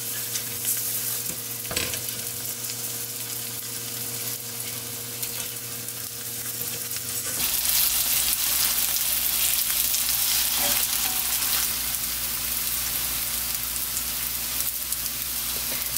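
Eggplant pancakes frying in a pan over low heat give a soft, continuous sizzle that grows fuller and louder partway through, with a low steady hum underneath.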